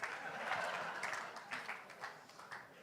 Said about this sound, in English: You're forced to clap now.